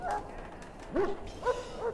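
A Mabari war hound in a fantasy video game, poisoned by Darkspawn blood, gives a few short, close yelps and whimpering barks spaced across two seconds over a quiet background.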